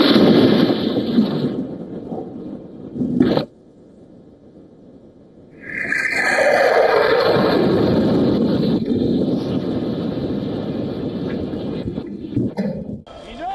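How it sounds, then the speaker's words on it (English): A missile strike on Petah Tikva, Israel: a loud roaring blast with wind-buffeted rumble, a sudden cut to near silence, then a long, heavy, sustained roar and rushing noise continuing to the end. "CCTV footage captured the moment a missile struck the Petah Tikva region"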